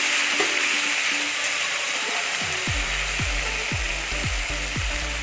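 Green chillies and chili powder sautéing in hot oil for a fish curry, a bright continuous sizzle with rhythmic scraping strokes of a spoon stirring in the pan.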